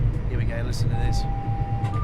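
Cab warning sounds of a Class 700 train in Train Sim World 3: brief high chimes and a sustained steady tone over a low cab rumble.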